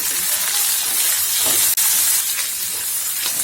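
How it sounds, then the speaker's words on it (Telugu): Sliced onions and garlic cloves frying together in a pan, a continuous loud hiss and sizzle with a brief sharp click partway through. "ఉల్లిపాయల్ని ఒక రవ్వ వేపుకుని సన్నగా కట్ చేసి పెట్టుకున్న వెల్లుల్లి రెబ్బలు వేసుకుని 2 కలిపి ఫ్రై చేసుకోవాలి"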